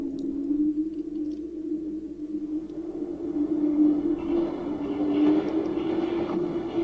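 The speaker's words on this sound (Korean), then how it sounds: "열차 소리 나요?" In a Korean horror video game, a steady low rumble of a train rolling past, continuous and droning, with a faint rising hiss toward the end.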